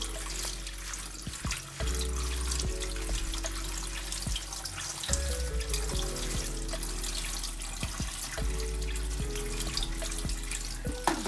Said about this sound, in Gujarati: મેથીને ધોઈ લેશું